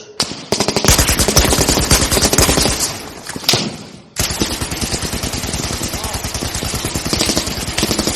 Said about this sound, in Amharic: ጠመንጃቸውን ያነጣጠሩት የጠላት ወታደሮች የሩምታ ተኩስ